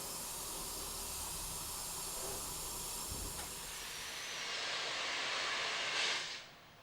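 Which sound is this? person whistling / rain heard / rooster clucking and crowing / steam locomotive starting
steam locomotive starting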